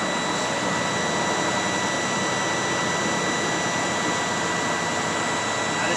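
A Class A truck engine held a little above 1,000 RPM to build pressure in the air brake tanks, giving a steady, loud, unbroken drone with a constant hum that neither rises nor falls.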